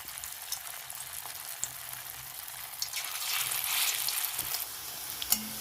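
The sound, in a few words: moong dal pakoras frying in hot oil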